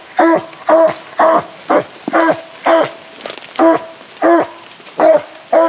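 Hunting dogs bark in a steady series of about a dozen loud, evenly spaced barks, close by, with a light background hiss of pouring rain.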